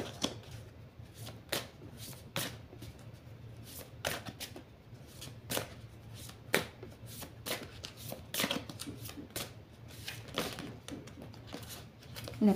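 A deck of oracle cards being cut and shuffled by hand, with soft riffling and sharp card snaps recurring in an uneven rhythm over a low steady hum, close and fairly quiet.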